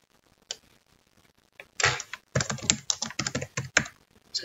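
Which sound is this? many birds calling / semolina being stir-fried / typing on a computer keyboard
typing on a computer keyboard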